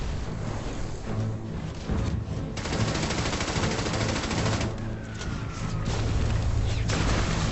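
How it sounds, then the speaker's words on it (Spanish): Battlefield gunfire from men shooting and throwing grenades while running toward an abbey wall, with dense bursts of automatic fire and booming blasts rolling on continuously at high intensity throughout. "Los hombres dispararon y lanzaron granadas mientras corrían."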